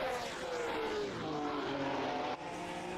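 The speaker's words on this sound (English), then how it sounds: "So you can hear someone is downshifting quite early into turn 1 there." An engine drones through a downshift as a 1967 Formula One race car brakes into turn 1 at Mount Panorama in a racing video game. The pitch falls in steps under a steady, moderately distant roar.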